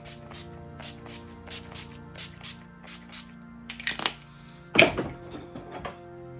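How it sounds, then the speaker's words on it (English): A bottle of makeup setting spray mists in a run of short, quick hissing bursts, then a couple of louder spritzes, over a faint steady hum. "And now for setting spray."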